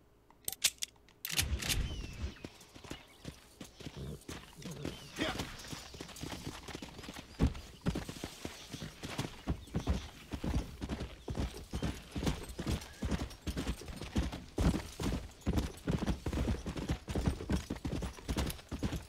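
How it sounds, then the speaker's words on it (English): A horse's hooves clip-clopping in a rapid, steady rhythm during a horse-breaking job in the Red Dead Redemption video game, loud and continuous with occasional mechanical clicks. "So let's do the horse-breaking job in Chuparosa."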